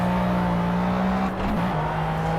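A McLaren F1 race car at Le Mans in Project CARS roars close up at high revs, a steady engine drone that dips briefly as it shifts, then climbs again.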